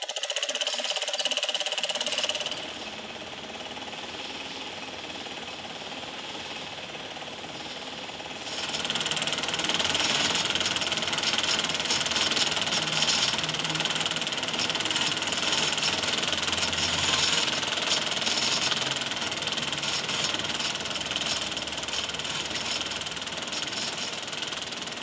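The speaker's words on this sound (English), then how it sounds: "can you buy a hand crank projector working like this one?" An antique hand-crank motion picture projector runs at an auction demonstration, giving a steady mechanical whir and rattle that starts softly, then swells louder after a few seconds and keeps going without talk.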